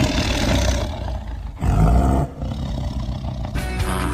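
A toy tiger lets out loud, growling roars in a few close bursts, the middle one the strongest.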